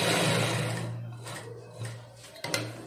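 A sewing machine running fast while stitching elastic on a sari, a close steady mechanical whir that slows and stops, followed by a few soft rubbing and clicking handling noises.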